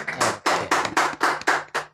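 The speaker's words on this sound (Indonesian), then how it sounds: "Tepuk tangan." Seven or eight sharp, evenly spaced claps from a small group welcoming a guest on a campus podcast, close and fairly loud, with no talk over them.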